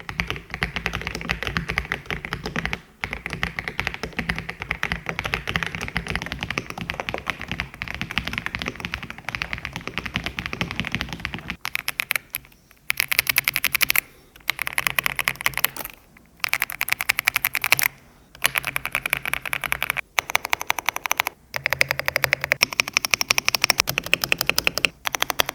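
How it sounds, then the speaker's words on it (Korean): Continuous typing on mechanical keyboards with gray and yellow switches, a dense rapid clatter of keystrokes that changes character partway through, with brief pauses between bursts. "제가 오늘 이 두 키보드의 타건음을 들려드리겠습니다"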